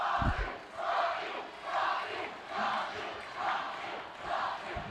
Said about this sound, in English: Both crowds cheering for their own wrestler.